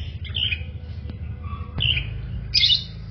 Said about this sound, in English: you can hear the chirping of the birds because it's also near the bird cage